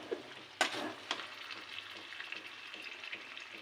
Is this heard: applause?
no